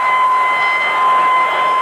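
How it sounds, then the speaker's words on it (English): At a 1997 rugby Test between South Africa and the British Lions, the stadium's full-time siren sounds as one loud, steady tone that holds unbroken throughout. "The siren is gone."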